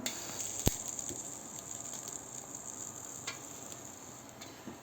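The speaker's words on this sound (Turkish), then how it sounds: "Ocağın üzerinde patlatıyorum. Üzerine 3 adet de biberimi ilave ediyorum." Eggplants and peppers sizzling and roasting whole in a pan on a stovetop, a steady faint hiss with a sharp pop or crackle early on and a few soft ticks.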